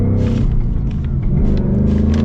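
A manual 2025 Ford Mustang RTR with about 800 horsepower pulls away and accelerates, its engine a loud, deep, continuous rumble heard from close up with no talk over it.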